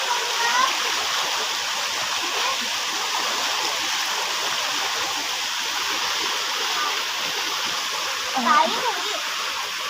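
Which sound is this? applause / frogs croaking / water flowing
water flowing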